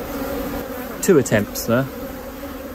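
Honey bees buzz steadily around an opened, queenless beehive during a hive split, with a close, continuous hum beneath a short spoken remark.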